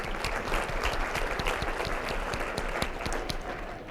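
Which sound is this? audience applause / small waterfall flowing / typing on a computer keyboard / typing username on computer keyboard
audience applause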